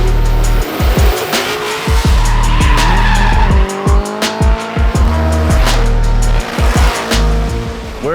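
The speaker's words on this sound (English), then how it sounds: "The guys today are shutting down a section of Canyon Road and they're gonna send a bunch of drift cars up" Drift cars sliding up a closed-off section of canyon road at a Kentucky drift event, with loud, close engines revving and dropping in repeated bursts while tires squeal and skid almost continuously.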